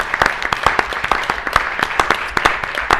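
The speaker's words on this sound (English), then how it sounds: "a big round of thanks and applause for our extraordinary panel" An audience applauds a panel with steady, dense clapping from many hands, sharp individual claps standing out close by, with no talking over it.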